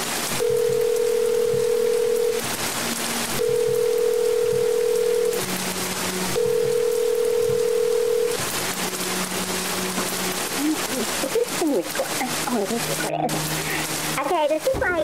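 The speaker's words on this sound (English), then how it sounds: "While on the phone again, she dialed her roommate Robin." A telephone call: a repeated ringing tone sounds three times in even bursts, then crackly voicemail-style talk follows.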